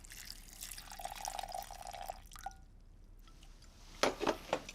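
Water splashes from a pouring vessel onto a pile of torn dates and cinnamon in a pan: an opening stream, a short pause, then a few quick, close wet splashes.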